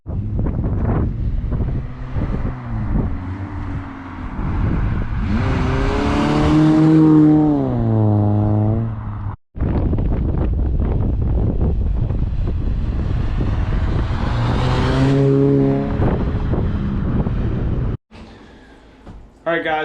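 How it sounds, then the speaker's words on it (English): A 2020 Subaru Impreza is driven up and down a driveway after an oil change. The engine note climbs in two rising revs separated by a brief pause, with wind buffeting the microphone throughout. "we're just gonna run up and down the driveway, get the oil up to temperature"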